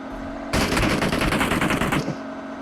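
Fast automatic gunfire in the PUBG Mobile video game, a single loud, sustained burst of rapid shots lasting about a second and a half against a quieter background hum.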